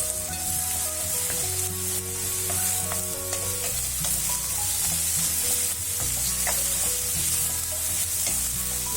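Vegetables and capsicum are stir-fried in a pan for Schezwan noodles, a steady close sizzle with repeated scraping and tossing strokes of a utensil against the pan and no talking.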